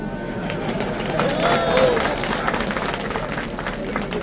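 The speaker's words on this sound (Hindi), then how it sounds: "महिलाएं तो ताली बजा रही हैं" Women in a rally audience clapping, a soft spread-out patter of applause mixed with crowd murmur and a voice over a loudspeaker, moderately distant and continuous.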